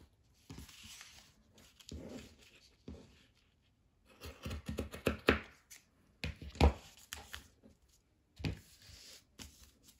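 Scissors cutting through fabric and a paper pattern, with soft rustling, sliding and crisp snipping in irregular bursts, close and moderately quiet, with brief pauses between cuts.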